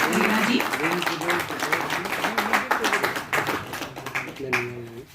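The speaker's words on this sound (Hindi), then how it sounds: "तालियां होनी चाहिए, ये अपने लिए बजानी तालियां।" Audience members clap at a national meeting during an honouring ceremony, scattered rapid clapping heard beneath a voice speaking over it.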